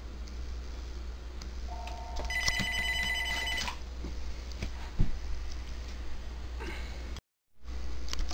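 A telephone rings indoors over a steady low hum during a Dell Inspiron N5110 laptop factory reset, a trilling bell-like ring repeating for about two seconds before a thump and a brief dropout, with no talking.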